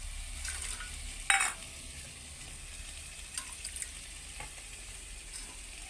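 Spiced water poured over fish in a hot pan for Bengali steamed fish, with a soft, steady sizzle and a brief louder burst of splashing and hissing early on, then quieter bubbling with a few faint clicks.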